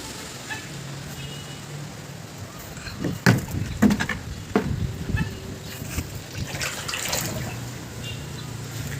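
Water sloshing inside a water tank being cleaned and drained, irregular splashes and swishes from feet moving the water, close and hollow, with a voice talking faintly at times.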